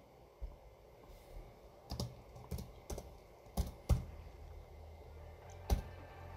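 Someone types an install command on a computer keyboard, with scattered quiet key clicks in irregular bursts close by and no talking.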